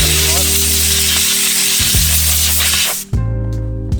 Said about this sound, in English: you will need your compressor, and you just kind of blow